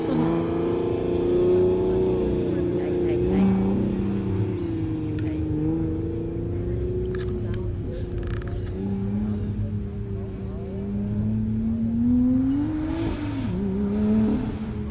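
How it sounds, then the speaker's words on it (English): Classic British sports cars doing burnouts at the Gilmore Car Museum, with a steady engine roar that rises and falls as revs climb, heard continuously and fairly close, with faint voices of onlookers and background noise underneath. "Burnouts."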